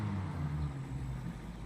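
A small four-cylinder engine in a Camaro runs close by with a low steady rumble and a slight uneven sputter.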